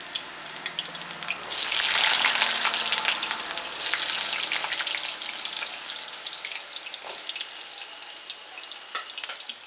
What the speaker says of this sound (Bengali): এবারে আলুগুলোকেও আমি বাদামি করে ভেজে নিচ্ছি।